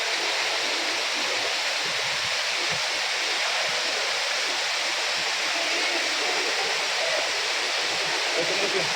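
Broadband rushing water at Talakona waterfall, a steady loud roar that holds unbroken for the whole stretch with no clear voices over it.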